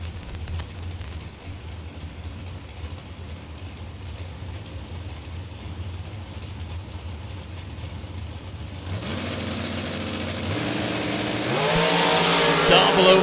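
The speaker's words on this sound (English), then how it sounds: "Dragster." Dragster engine at a drag race during spring time trials, a distant roar that builds and swells louder toward the end, with an announcer talking over it.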